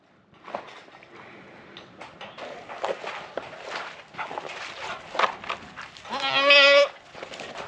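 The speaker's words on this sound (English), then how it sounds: "Come here, goats." A goat bleats once, loud and close, after a stretch of shuffling footsteps and soft movement.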